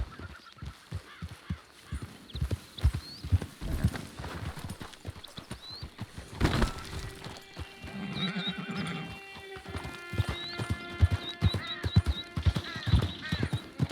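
Horse hooves clip-clop at a steady riding pace in Red Dead Online, with a horse whinnying and geese honking nearby amid a rural soundscape; the hoofbeats run as a continuous rhythmic patter throughout.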